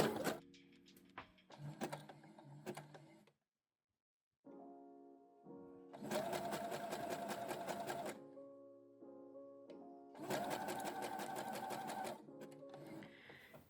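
Sewing machine stitching elastic onto loose, stretchy pointelle fabric knickers, running in several bursts of rapid whirring separated by short pauses, close and fairly quiet.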